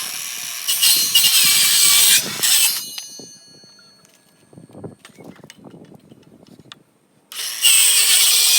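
A hand saw cuts through pallet wood in loud, rasping strokes, followed by quieter knocks and shuffling before the sawing resumes at the end.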